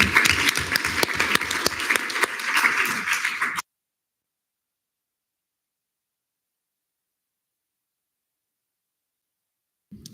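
An audience at a student senate session applauds loudly for a few seconds, then the sound cuts off abruptly into silence.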